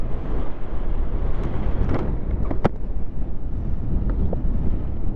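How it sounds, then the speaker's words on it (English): Strong wind in the Atacama Desert roars steadily across the microphone on a motorcycle ride, a loud continuous buffeting rumble with a few brief rattles and clicks. "It's hard to say because it's extremely windy."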